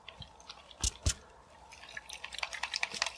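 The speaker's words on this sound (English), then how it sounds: "You can actually hear the water." Faint drips and small liquid sloshes from water inside an ASUS ROG Ryuo 120 all-in-one liquid cooler with a 120mm radiator, two sharper taps early, then a run of light, quick wet clicks, quiet and close.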